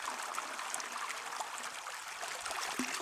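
Water sloshes and trickles steadily as gravel is washed at an angle in a gold pan, a close, continuous wet swishing with no talk.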